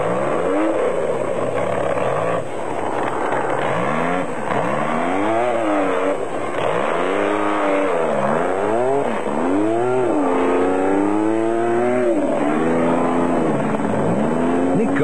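Off-road race vehicles at the 2003 Sun City off-road race in South Africa rev hard and race past, engines swooping up and down in pitch through repeated loud passes with a steady rumble underneath.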